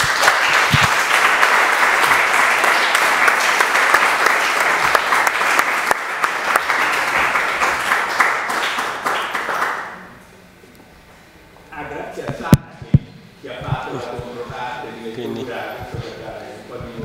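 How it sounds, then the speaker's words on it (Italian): A lecture audience applauds after a talk on Alan Turing, a loud, sustained wash of many hands clapping for about ten seconds, then a sharp drop to quiet before voices and room noise return. "L'applauso era per tutti e due."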